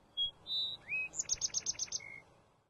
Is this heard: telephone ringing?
no